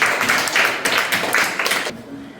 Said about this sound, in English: Clap for them, Lord.